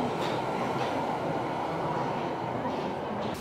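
Central London Underground tube train at Oxford Circus station, a steady loud rumble of the carriage running throughout with a faint wheel hiss and no clear voices.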